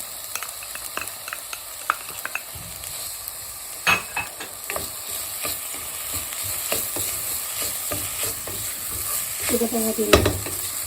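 Chicken and spices sauté in a pan with a constant soft sizzle, punctuated by scraping stirs and utensil knocks, and a brief spoken word near the start.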